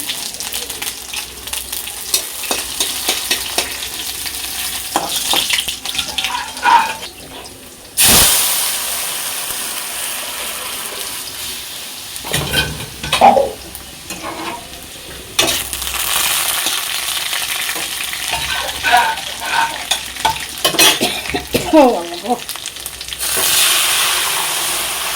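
Panch phoron and a dry chili frying in hot oil while being stirred, a close crackling sizzle broken by scraping stir strokes and a few sharp cuts and bursts in the hiss.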